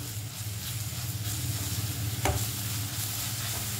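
Ginger garlic paste being sautéed with onions in a pan, a continuous soft sizzle and hiss with stirring scrapes and a brief louder clatter midway, close and without speech.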